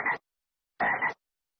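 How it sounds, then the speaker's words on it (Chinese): A frog gives two close, raspy croaks, a short one and then a longer double pulse, separated by silence. "是青蛙的声音。"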